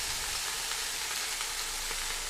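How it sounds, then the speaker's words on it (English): Oiled chicken kebab skewers sizzle on a hot grill grate in a steady, bright crackling hiss, close and continuous with no voices. "Immediately transfer the oiled skewers to the hot grill grate and season with a pinch of salt."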